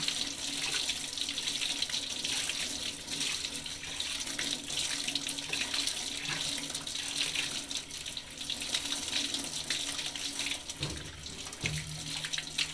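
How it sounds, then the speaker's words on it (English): A tap runs steadily into a sink as paint is rinsed out of a brush or roller in a paint shop, a continuous splashing hiss with small shifts as the item is squeezed under the flow. "I'm squeezing the paint out and running it through the water here"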